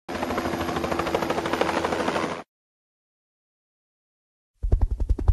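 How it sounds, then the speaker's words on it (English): A helicopter's rotor throbs in a fast, steady chop for a couple of seconds, then cuts off abruptly into silence before a voice begins speaking. "A helicopter flies using its rotating blades."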